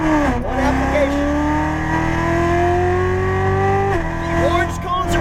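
Chevrolet Corvette Z06 Stingray accelerating on a race track, a loud close engine note climbing steadily through the revs with a brief shift dip partway through, a voice talking over it.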